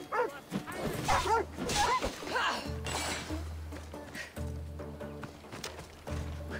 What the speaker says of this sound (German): Hundi.